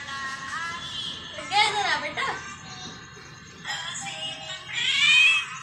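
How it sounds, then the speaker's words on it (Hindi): A pet cat at home meows a few times in short rising calls, close by, mixed with people talking around it. "स्वीटी ये जो बिल्ली है हमारे घर में जो पली है इसका नाम स्वीटी है।"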